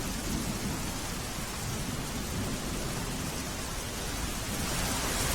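Heavy monsoon rain falls over Valsad in south Gujarat, a loud, unbroken wash of downpour hiss with low rumbling beneath, continuous and without voices.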